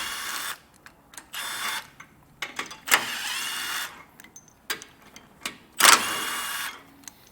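A 15mm socket on a ratchet or power tool removes front bolts on a 2024 Ford Bronco during base plate installation, in short buzzing bursts separated by pauses, moderately close with faint clicks in between.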